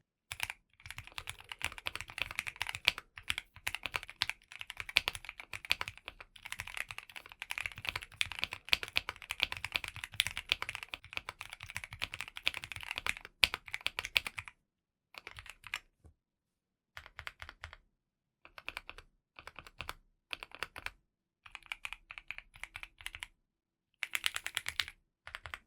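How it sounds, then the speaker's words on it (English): Steady typing on a Keychron Q1 Max 75% mechanical keyboard, soft smooth key clacks in fast continuous runs with brief pauses, close and alone without talk. "It genuinely goes into my top 3 keyboards in terms of typing sound and feel"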